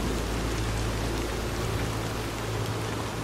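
Steady rain pours down in a Red Dead Redemption 2 game world, a dense, even hiss of falling water over a low rumble, constant throughout with no voices.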